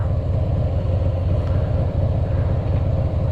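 A Harley-Davidson Heritage Softail Classic rides in second gear, its engine giving a steady, loud, pulsing low rumble up close, with road and wind noise blended in.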